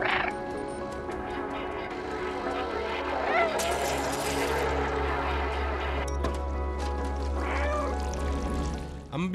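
Cat meowing in the video game Stray, several short meows over a dense, busy ambient game soundscape with low droning background noise, moderately quiet in the mix.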